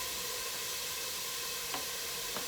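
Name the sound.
onion and garlic sizzling in a frying pan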